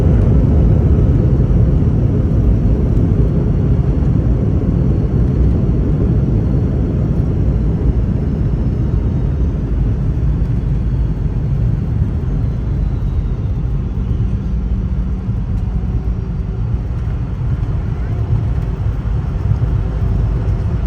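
A Boeing 717-200 jet lands at Washington Dulles, heard as a loud, continuous low roar and rumble that stays steady throughout, without voices.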